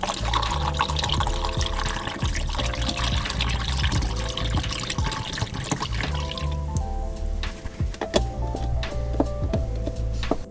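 Film developer pours steadily into a developing tank for several seconds, then gives way to a few light clicks and taps, close and moderately loud.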